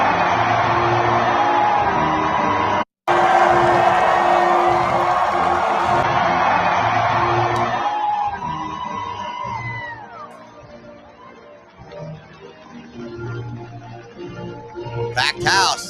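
A packed graduation crowd cheers and whoops loudly and steadily, with a brief dropout near the start, then fades to a quieter murmur with scattered shouts and some talk underneath.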